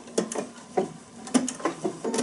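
A sewing machine stitches slowly at a narrow zigzag width while turning a point, giving a handful of separate mechanical clunks and whirs spaced unevenly, close and clear.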